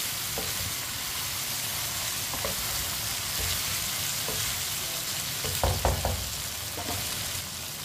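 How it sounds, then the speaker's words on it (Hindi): Potatoes frying in a pan for aloo gosht give a steady, dense sizzle throughout, with a few light knocks and stirring clatters near the end and no talking. "आलू को भी 2 मिनट के लिए मैंने फ्राई कर लिया है।"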